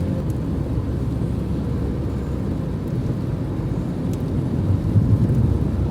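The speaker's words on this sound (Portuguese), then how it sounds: "Ó, ele já aplica um freio motor" A 2021 Renault Duster engine braking on a downhill with the accelerator released, a steady low engine drone and road rumble heard from inside the cabin without talk.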